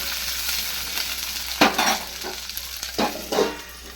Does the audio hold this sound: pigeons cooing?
no